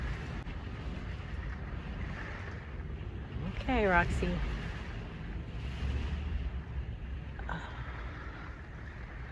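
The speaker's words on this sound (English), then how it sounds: "you never know when those gusts of wind come" Storm wind gusting around a vehicle, a broad rushing roar that swells and fades, with a dog's whine rising briefly in the middle and a short spoken word.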